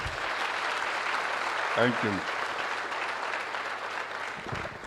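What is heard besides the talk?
audience applause at conference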